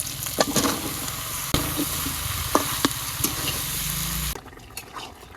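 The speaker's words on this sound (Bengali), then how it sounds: "এখন আমি লাউ দিয়ে দিব লাউ দিয়ে দিলাম" Bottle gourd tipped into a pan of frying onion, turmeric and chili powder in a Bengali village kitchen, raising a loud, continuous sizzle with scattered stirring clacks that drops off sharply near the end.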